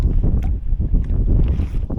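Loud, gusty wind buffeting the microphone in low rumbling bursts, close and continuous, with no voices.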